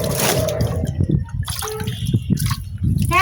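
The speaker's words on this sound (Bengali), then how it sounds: "তোমার আবার আজকে কাপড় ধোয়া লাগলো?" Water splashes and sloshes in irregular bursts as clothes are washed by hand in a bucket, close and fairly loud, with dripping and trickling between the splashes.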